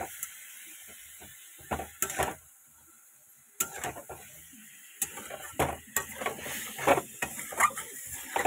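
Cauliflower stir-fried in a pan with cumin paste, ginger paste and dried chilli, heard as a soft sizzle under intermittent scraping strokes and clinks of a spatula against the pan, fairly close, with no talk.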